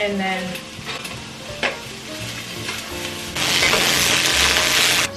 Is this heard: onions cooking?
yes